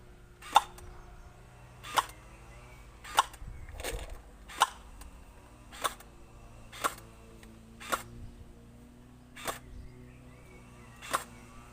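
An X-Shot gel blaster fires in semi-automatic mode: about eleven sharp, single snapping shots, spaced roughly a second apart, close and clear against quiet background.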